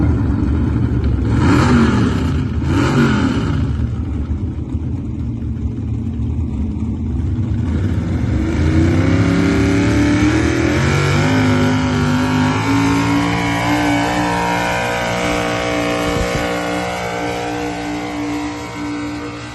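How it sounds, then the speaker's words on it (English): Oregon pulling truck at a truck pull, its engine revving loudly with rising and falling pitch sweeps, then holding a steady strained roar that fades slightly toward the end. "we're actually going to start off with an Oregon truck tonight that was down in Turlock last year"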